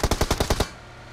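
Rapid automatic gunfire in a solo-versus-squad shooter video game, about seven loud, close shots in quick even succession, then an abrupt stop into a quiet tail.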